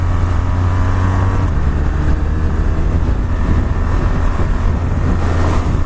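A BMW R1200R motorcycle engine pulls steadily under acceleration, a loud, continuous droning roar buffeted by wind noise throughout.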